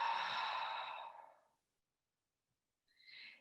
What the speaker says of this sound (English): Continue breathing super big,